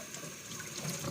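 Water runs steadily through a Pioneer pet water fountain being rinsed during cleaning, a soft continuous trickle and hiss with no voices.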